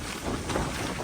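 Strong gusts sweep across a hillside farm ahead of a storm, a loud broadband roar buffeting the microphone, rising slightly midway through a short burst.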